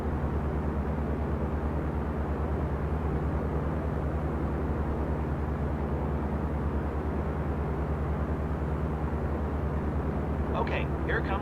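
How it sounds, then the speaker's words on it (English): A light aircraft engine runs at full power during takeoff and climb in a flight simulator game, making a steady, loud, low droning hum that holds unchanged throughout. "Give it full power for takeoff and climb"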